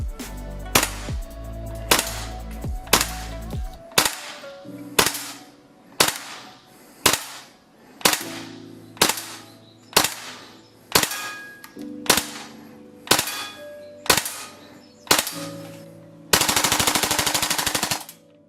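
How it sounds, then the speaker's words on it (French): A Tokyo Marui Type 89 gas blowback airsoft rifle fires loud, sharp cracks with a metallic bolt clack, first in quick shots and then single shots at steady intervals, ending in a short full-auto burst. "Test de tir du type 89 GBBR de chez Tokyo Marui."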